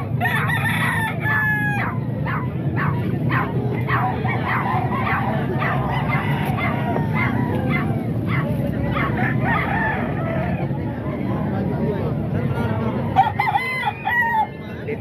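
Sweater breed gamefowl roosters crow repeatedly at a crowded poultry market, several birds calling over one another amid clucking, a barking dog and background chatter.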